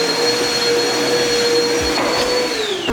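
A smooth, steady exhaust drone from a Honda Civic Type R with a Skunk2 exhaust at idle, fairly loud and even, with a constant whine on top and no speech.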